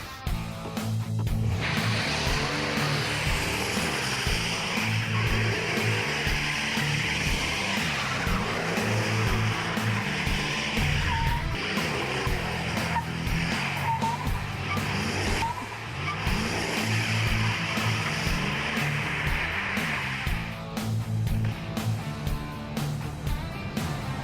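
A truck being driven on a ride, its engine running loud and steady with a low rumbling drone, rising and falling as it accelerates, with occasional tire and road noise throughout.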